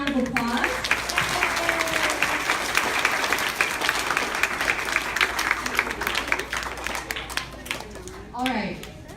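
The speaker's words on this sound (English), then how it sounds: "can you guys give them one more round of applause?" An elementary school audience claps for volunteers at a kids' event, a long, dense round of applause with scattered voices and cheers, tapering near the end.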